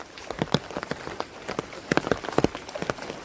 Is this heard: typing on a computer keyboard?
no